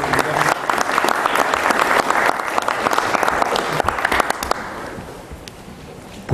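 Audience applause fills a hall at an event on environmental policy initiatives in the State of Mexico, steady and dense for about five seconds before thinning out toward the end.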